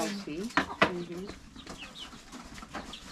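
Farmyard chickens, including a hen, cluck and call in short bursts close by, with a few louder squawks near the start, while someone talks over them.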